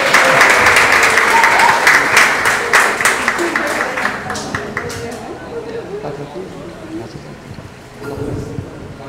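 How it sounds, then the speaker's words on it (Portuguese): Loud applause from an audience, dense clapping at first that gradually thins and fades, with a brief swell near the end. "Mais uma salva de palmas para a Adma."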